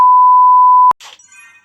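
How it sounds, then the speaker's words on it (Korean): An alarm device in a video game gives a long steady electronic beep, then cuts off abruptly as it is destroyed, followed by a brief burst of crackling and scattered electronic chirps. "경보기 파괴."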